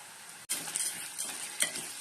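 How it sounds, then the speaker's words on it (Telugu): Toor dal frying in a pan with onions, curry leaves and dried chillies, with a sharp stirring scrape near the start and a soft sizzle underneath, brief and close. "ఇప్పుడు కందిపప్పు వేసుకొని ఫ్రై చేసుకుందాం."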